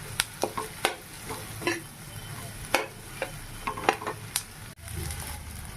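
Boiled potatoes frying in a pan, a low sizzle broken by repeated sharp scrapes and clicks of a spatula stirring against the metal, close and moderately loud, no talking.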